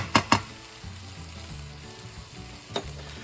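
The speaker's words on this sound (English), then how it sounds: "Okay, my onions are almost getting caramelized. I'm fixing to put my garlic in it." Garlic and caramelized onions sizzle steadily in a pan, a constant close crackle broken by a few sharp clacks of a utensil stirring at the start and near the end.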